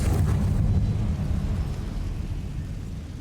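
The Confringo spell in Hogwarts Legacy erupts in a loud, fiery blast that quickly fades into a rumbling low tail lasting about three seconds.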